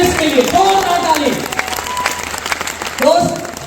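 Audience applause at an Asclepius Wellness motivational gathering, a crowd clapping strongly through the clip and swelling again near the end, with someone speaking loudly over it.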